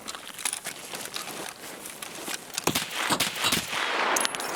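Sharp bursts of gunfire crack in quick succession amid game noise in an Escape from Tarkov-style shooter, some shots sounding distant and others closer, with no talking.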